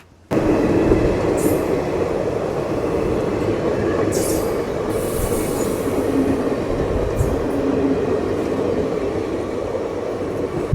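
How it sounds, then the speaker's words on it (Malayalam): A Kannur–Coimbatore express passenger train rumbles steadily past at close range, arriving at Ettimadai station on the Tamil Nadu–Kerala border, a loud continuous roar of wheels and carriages with occasional higher squeals. "ഇപ്പോൾ നമ്മുടെ കണ്ണൂർ കോയമ്പത്തൂർ എക്സ്പ്രസ് വരുന്നുണ്ട്"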